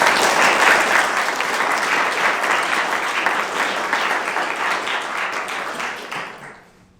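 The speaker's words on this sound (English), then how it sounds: "Let's give them another great round of applause." A crowd applauding warmly at a school board meeting honoring chorus and band students, steady clapping from many hands that gradually fades out toward the end.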